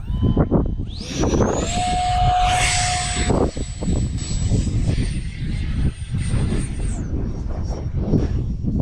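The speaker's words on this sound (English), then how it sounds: "It's a good looking little plane," A small Arrows RC Avanti S 50mm ducted-fan model jet's high, whining motor buzzes overhead, rising and holding pitch, with gusty wind rumble throughout.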